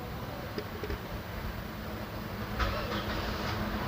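A car engine with its check-engine light on and a reported sluggish feel runs with a steady, moderately loud rumble, rising slightly in a brief surge partway through.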